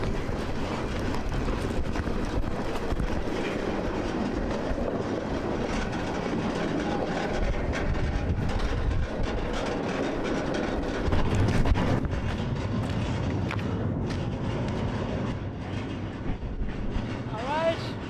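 Freight train shunting in a rail yard, a continuous heavy rumble with rolling rail noise and occasional clanks and squeals, steady and fairly loud with wind buffeting the microphone.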